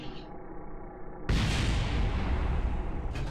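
A plane crashing in a flight video game sets off a sudden loud explosion after a quieter engine drone, followed by a sustained roaring blast and rumble that lingers to the end.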